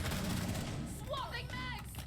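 Gunfire in a Rainbow Six video game match comes as a dense, continuous barrage of sharp shots, with a voice talking over it.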